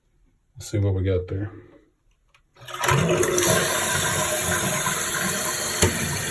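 A thrift-store-repaired toilet runs a full flush after someone speaks briefly, a loud rushing swirl of water that follows a click and continues steadily to the end.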